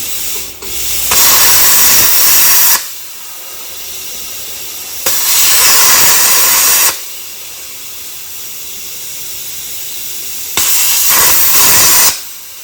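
Rivet heads are cut off a Dodge D100 truck frame in three short zaps, each a loud steady hissing burst of a few seconds with quiet gaps between, close up and free of talk.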